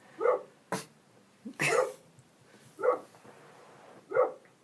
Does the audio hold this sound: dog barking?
yes